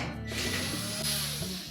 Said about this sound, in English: we're next going to remove these two mounting screws that secure the main top to the back panel